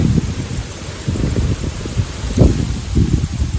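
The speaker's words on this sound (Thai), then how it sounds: "ลมแรงมากเลยครับผม" Strong wind gusts roar through forest trees, a low steady rushing that swells and falls in loud waves, with no talk.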